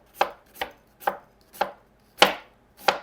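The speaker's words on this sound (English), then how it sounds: "Then I will chop up my onion." A knife chopping an onion on a cutting board, six crisp evenly spaced chops at close range with no talking.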